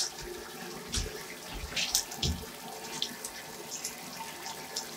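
Water running from a tap during a bath, a steady splashing wash with a few louder gushes, close by and heard alone.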